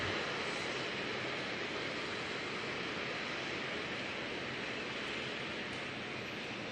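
Aircraft NXJ taxiing off the runway at Auckland Airport, a steady, broad jet engine roar heard from a distance, constant and unbroken throughout with no voices.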